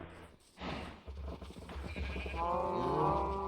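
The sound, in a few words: cows mooing, from modded video game Minecraft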